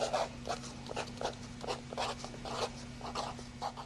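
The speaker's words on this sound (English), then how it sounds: "So hold on, I'll write that and show you." Handwriting the word exponents: a run of quiet, scratchy pen strokes in short bursts at a steady, irregular rhythm, close and faint over a low electrical hum.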